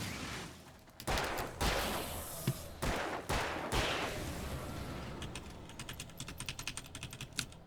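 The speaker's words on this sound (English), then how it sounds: "I love the shooting" Gunfire in Alan Wake, several heavy shots booming early on, then a fast run of sharp, clicky reports mixed with close keyboard typing, with no speech.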